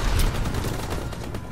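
Rapid gunfire in the video game Call of Duty: WWII crackles in a burst of sharp shots, loud and close, followed by a few more scattered reports.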